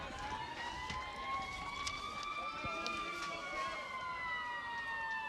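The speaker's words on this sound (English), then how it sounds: "Ambulance, police, fire. Not here. Just driving by." Ambulance, police and fire truck sirens wailing as they drive past a high school baseball game, rising and falling tones over crowd noise and a voice speaking.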